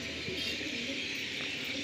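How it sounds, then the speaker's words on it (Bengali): Giribaj pigeons, green and kalshira chapka adults with young, coo softly in a loft, a steady low murmur of cooing running through the whole moment over faint background hiss. "দুজোড়া সবুজ ছাপকা বা কালশিরা ছাপকা যাই বলেন গিরিবাজ পায়রা ধাড়ি"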